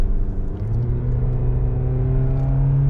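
A Dodge Charger 392 accelerates on a highway, its engine rumbling loud and close from inside the cabin with a steady rising drone and a climbing harmonic tone, no voices over it.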